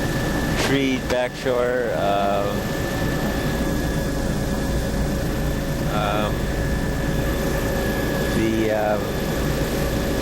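A light aircraft on an aerial coastal survey cruises at about 80 knots, its engine a loud, constant drone from close inside the cabin, while someone talks briefly over it.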